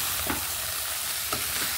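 Raw banana pieces with onion, ginger-garlic paste stirring in a pan, a steady close sizzle of frying with a couple of soft scraping stirs.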